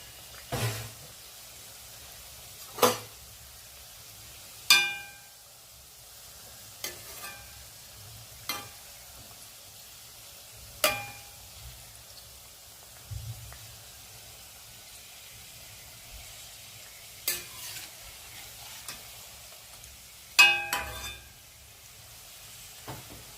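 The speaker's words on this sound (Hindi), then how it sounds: "एक बार हम कढ़ाई को पकड़ कर हिला देंगे।" Mawa gujiya frying in oil in a kadhai as the pan is shaken, a low steady sizzle broken by a series of sharp clanks and knocks spaced a few seconds apart, close and fairly quiet with no talk.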